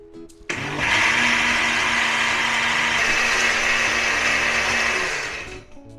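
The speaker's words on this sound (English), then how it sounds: "So I get another small blend again." A blender whirring through a piña colada with coconut rum, a short steady burst starting abruptly, holding an even loud motor whine for about five seconds, then winding down.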